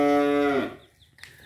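A cow at a Ben Tre cattle farm lets out a single long, loud moo that tapers off, followed by quiet barn background with a faint sharp knock.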